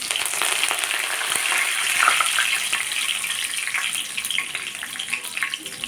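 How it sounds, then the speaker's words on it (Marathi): Mustard seeds, cumin and chopped curry leaves hit hot oil in a kadai, giving a steady, dense crackling sizzle that stays close and fairly loud throughout, with no talk over it. "कढईमध्ये छान आपलं तेल गरम झालेलं आहे तर यामध्ये आपल्याला मोहरी घालायची आहे त्यानंतर इथे जिरे घालायचे आहे"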